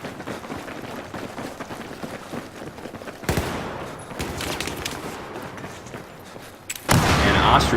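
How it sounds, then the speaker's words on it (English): Rapid bursts of gunfire and explosions from grenades spammed at a doorway during a Battlefield 4 competitive 5v5 defuse match, dense and continuous with sharp louder blasts near the middle and end. "Just nade spamming that doorway like crazy."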